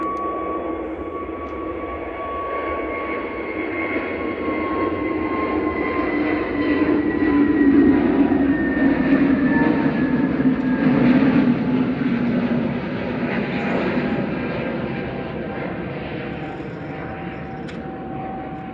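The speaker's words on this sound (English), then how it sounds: "EasyJet 1550 to Geneva, HBAYR departing. This is an A320." An EasyJet Airbus A320 departs Manchester Airport, its jet engines producing a steady roar with a slowly falling whine that swells in the middle and holds, heard alone.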